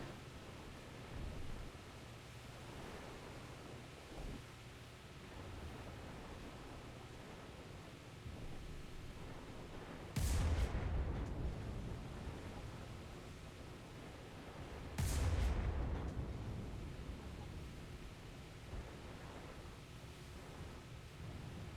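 Anti-aircraft guns on a boat in War Thunder fire in two loud, bursting blasts a few seconds apart, set against a steady wash of sea and engine noise.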